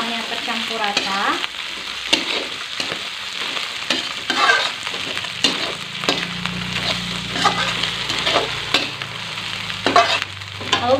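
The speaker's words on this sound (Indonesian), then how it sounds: "Kita aduk sampai semuanya tercampur rata." Shredded tongkol tuna fries in a pan while a spatula stirs it in quick repeated scraping strokes over a constant close sizzle.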